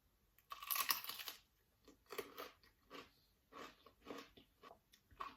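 Crunchy homemade vinegar-based dill pickle slices bitten and chewed close up: one loud crisp bite, then a string of wet, crackling chews in an uneven rhythm with brief pauses between.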